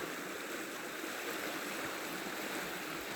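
The Tisza river rushes steadily along its bank, undercutting the right-hand shore, a continuous broad hiss of flowing water heard up close with no voices.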